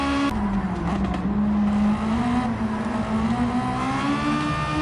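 A Mazda CX-30 race car engine in Gran Turismo 7 holds a loud, continuous high drone near its top speed of about 255 km/h on a straightaway, with the pitch wavering slightly as it races.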